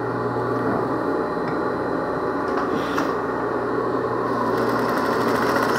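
A sewing machine stitches a seam for a hair piece, giving a continuous close mechanical whirr with a steady motor hum throughout, no talk.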